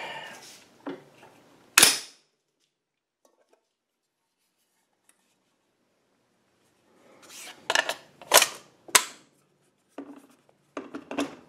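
A PSA PTAC10 .308 rifle bolt slams forward with a sharp metallic clack near 2 s, then after a quiet gap a cluster of loud metal clicks and clanks follows as the action is worked.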